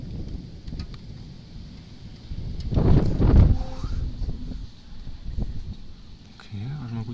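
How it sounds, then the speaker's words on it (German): Wind from a severe thunderstorm buffets the microphone with a rough rushing roar that swells into a strong gust midway, then settles, with faint voices near the end. "Okay, also mal guter Windstoß."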